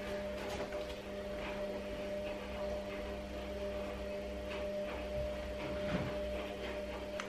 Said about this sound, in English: If you can hear that whirring in the background, it's because I've got the washing machine on.